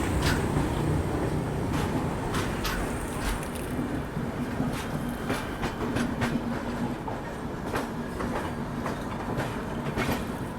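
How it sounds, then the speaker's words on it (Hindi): The Navjeevan Superfast Express runs through near Vijayawada, following right behind the GT Express, with a steady rumbling roll and repeated clickety-clack of wheels over rail joints throughout. "नवजीवन सुपरफास्ट एक्सप्रेस बिल्कुल GT के पीछे पीछे आती है ये।"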